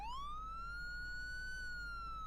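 A single long Virginia State Police siren wail sweeps slowly upward and holds a steady high tone, loud and continuous with no voices.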